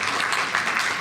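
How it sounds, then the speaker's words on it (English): Conference audience giving a round of applause at a closing session, a dense steady patter of many hands clapping throughout, moderately loud and without speech. "So I think we need a big round of applause for them."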